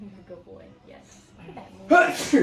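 A short, loud sneeze bursts out near the end, after an adult talks softly and soothingly, with a second smaller burst right after it.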